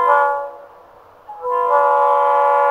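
An FEC freight train sounds its horn at a rail junction: loud sustained multi-tone blasts, a brief drop and a short break, then the horn resumes strongly, heard close with no talking.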